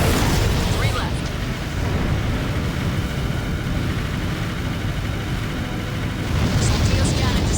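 A Soldios cannon blows up in the video game Armored Core: For Answer, with a heavy booming blast at the start and end and continuous loud rumbling battle noise in between.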